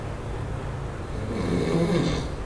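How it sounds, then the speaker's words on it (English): A person snores once, a faint, rough breath that swells slightly near the end against a steady hiss of room noise. "I think that was a snore."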